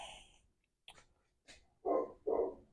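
A dog barks outdoors on a windy, rainy night, two loud close barks following a few softer huffs and breaths, with no talking.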